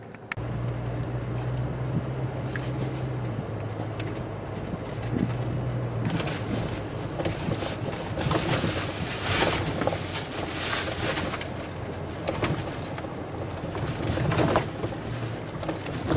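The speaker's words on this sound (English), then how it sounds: "the wind out here is so bad" Strong wind buffets the microphone in loud, uneven gusts over a low idling engine rumble of a Toyota Tundra or GMC Sierra 4x4 pickup, with no speech.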